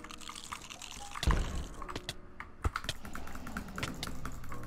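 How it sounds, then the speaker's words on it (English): Rapid butterfly clicking on a computer mouse during a game of Minecraft Bedwars, a dense run of fast clicks and clatter with a couple of sharper bumps, steady and close. "Oh my god, please, butterfly clicking."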